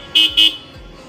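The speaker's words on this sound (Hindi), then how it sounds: "जबकि डुअल हॉर्न देखिए आप" Two short, loud honks from a dual horn on a TVS Ntorq scooter, evenly spaced and close, over a faint background hum.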